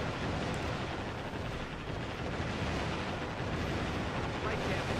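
Dense, continuous rumble of missiles launching and blasting in the naval combat game Warship Gunner 2, a steady loud wash of booms with no clear breaks and voices faintly mixed in.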